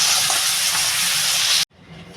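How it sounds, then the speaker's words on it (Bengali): Crab frying in a pan for a crab and potato curry gives a loud, dense, steady hiss that cuts off abruptly near the end, leaving faint room noise. "কাঁকড়াটা কিন্তু আমার ভাজা হয়ে গেছে"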